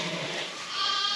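Sheep bleating during lambing on a farm, a short steady cry lasting about a second, close to the microphone with no talk over it.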